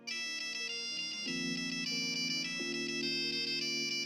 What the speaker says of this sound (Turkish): Onun yerine millet zil tonu yapıyordu.